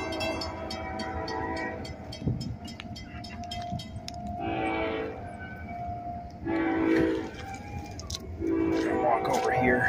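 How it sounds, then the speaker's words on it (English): A train approaches and passes, its rumble building as the horn sounds in several blasts. The train is heard alone, with no talk. "actually I have a train coming"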